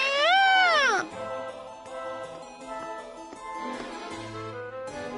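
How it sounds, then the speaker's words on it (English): A cat in the video game Labyrinth of Galleria gives one loud, drawn-out meow with a rising then falling pitch, followed by quieter game music and ambient tones. "is that cat growing fond of you?"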